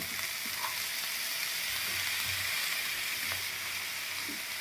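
Spiny gourd (kantola) sautéed in a pan with red chilli powder and salt gives a steady, close, even frying sizzle throughout, with a few faint stirring touches and no talking.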